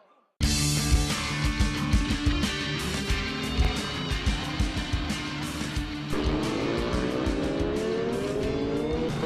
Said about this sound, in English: you hear the roar of the bikes